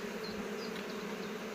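Honeybees swarm densely around honey and brood hive frames being moved in an apiary, producing a steady, close, droning buzz with a few higher individual wingbeat whines passing by.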